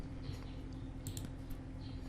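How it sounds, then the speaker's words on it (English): Typing on a computer keyboard during a Windows tutorial, a few light key clicks over a steady low electrical hum, fairly faint and without speech. "on your computer keyboard just press Win plus R and just type the regedit"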